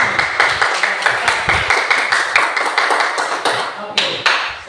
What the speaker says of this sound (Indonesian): Tepuk tangan buat kelompok sini.